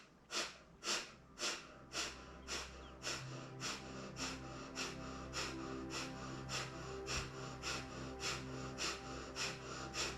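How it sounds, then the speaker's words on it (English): Repeated deep breaths in a guided breathwork exercise, steady rhythmic inhales and exhales about twice a second, close and fairly quiet over a low background hum, with no talking. "take a deep breath in"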